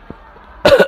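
One sharp, loud human cough, close and dry, preceded by a tiny click and quiet room tone.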